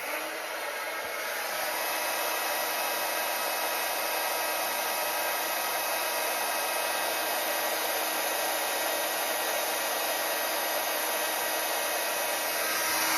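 A heat tool melts embossing powder for a craft project, giving a steady, close, loud blowing whir that holds unbroken for the whole stretch with no talking.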